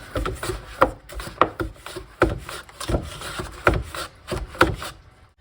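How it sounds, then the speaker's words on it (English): Potatoes with the peel left on are pushed through a small kitchen slicer, giving a series of close, scraping, rasping strokes in an uneven rhythm with no talking. "I'm going to use this little slicer thing. Just kind of push the potato in there."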